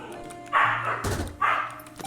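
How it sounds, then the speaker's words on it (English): A dog gives two short, sharp barks close by, each a loud burst with a brief pause between, over a quiet background. "Guys, stop barking."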